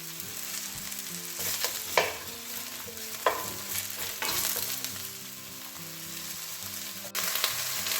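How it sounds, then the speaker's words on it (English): Mushrooms fry over high heat in a pan, a steady broadband sizzle running throughout with a few sharper stirring knocks and scrapes of a utensil against the pan. "You want to cook these in quite a high heat to start with, just to get some colour on them"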